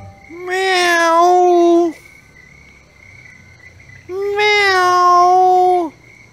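A cat gives two drawn-out meows, each about one and a half seconds long, loud and close, separated by a short pause with faint background hum and no speech.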